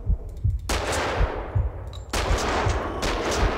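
Gunfire in the shooter Max Payne 2: The Fall of Max Payne comes as loud rapid bursts of automatic fire with thudding low impacts, pausing briefly between volleys, with no talking.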